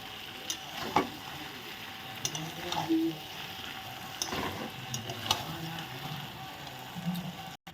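Large chicken leg pieces sizzle softly in a pan as they are sautéed with spices, a faint, continuous frying crackle with occasional stirring clinks.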